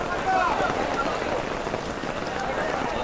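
Rain falls steadily on an outdoor cattle market, a soft continuous patter and hiss with a faint murmur of distant activity beneath it.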